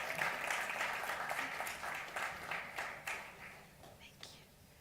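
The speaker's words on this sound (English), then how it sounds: "Can we please give him a round of applause?" An audience at a national events and technical sector consultation applauds a speaker, with dense sustained clapping that slowly fades over a few seconds while murmured voices mix in.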